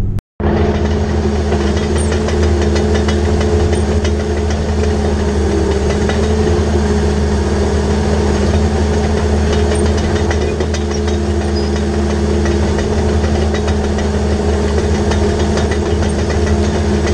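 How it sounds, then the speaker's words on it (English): Tractor engine running steadily in a field being cleared with a Rome plow, a loud continuous diesel drone with low rumble and constant mechanical knocking, no voices. "we'll get the tractor going"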